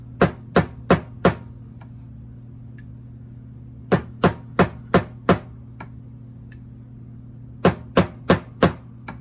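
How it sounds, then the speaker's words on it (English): A plastic hammer taps a part into a .303 British brass cartridge case during Berdan-to-Boxer primer conversion: three bursts of four quick, crisp, close taps spaced by pauses over a steady low hum. "then we take our plastic hammer"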